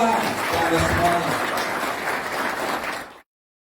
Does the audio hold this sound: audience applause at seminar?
yes